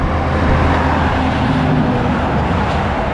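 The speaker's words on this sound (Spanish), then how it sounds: "Se pasan tantos camiones que no se escucha nada." Heavy trucks pass on a highway in Tocantins, Brazil, making a loud, continuous roadside roar and rumble that never lets up, with no voices heard.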